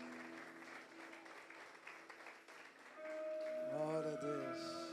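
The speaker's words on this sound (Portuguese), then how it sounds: "Você pode dar uma salva de palmas a Ele" Congregation clapping at an evangelical worship service, soft diffuse applause under sustained keyboard tones, joined later by a voice singing or speaking.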